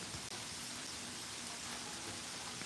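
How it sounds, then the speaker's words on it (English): Steady rain falls outdoors as it begins, a soft even hiss of drops spread across the whole stretch, fairly faint and continuous with no voices over it. "It's starting to rain."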